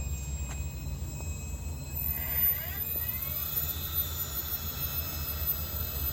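A SubSonex small jet aircraft's engine at startup, a steady loud roaring whoosh with a rising turbine whine sweeping upward partway through, continuous and close, without talk.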